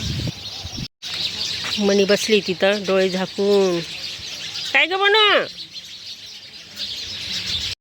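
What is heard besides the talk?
sparrows chirping in bael tree at dusk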